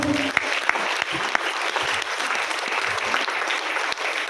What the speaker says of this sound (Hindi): एक जोरदार ताली है मैम के लिए।